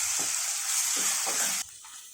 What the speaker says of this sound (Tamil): இதிலே நம்ம மசாலா அரைச்சி வச்சதுலே இதிலே போட்டுப்போம். அப்புறம் இதிலே வதக்குவோம்.